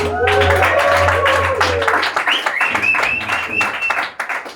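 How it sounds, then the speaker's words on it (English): Audience applause and cheering at a comedy club opening in Basel, a loud, continuous wash of clapping from a crowd with tonal sounds running underneath, holding steady for several seconds before tapering slightly. "give a big round of applause to Albert here"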